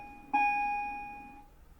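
A single bright electronic school bell tone rings once, clear and close, then fades out gradually over about a second.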